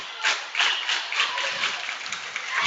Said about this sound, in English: Olsen, the slow clap begins.